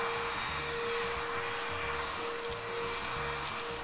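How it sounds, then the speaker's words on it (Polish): A Beko VRT82821DV upright vacuum cleaner running in turbo mode gives a loud, steady whine and roar. The drone stays constant and continuous for the whole stretch, with no talk over it. "Odkurzacz będzie trochę głośniejszy, ale zdecydowanie ma większą siłę ssania."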